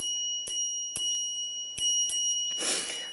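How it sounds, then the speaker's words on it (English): A small, discreet bicycle bell on a gravel or mountain bike rings in several quick, crisp dings spaced unevenly, followed by a brief rustle at the end. "So what I went for was a bit of a stealth bell."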